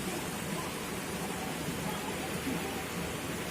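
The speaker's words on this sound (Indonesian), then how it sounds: "Cuma hujan" Steady rain falls in a forest as a dense, even hiss that continues unchanged and without pause throughout, close and moderately loud, with no voices or other distinct sounds rising above it.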